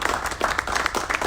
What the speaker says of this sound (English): let's give her a round of applause for her effort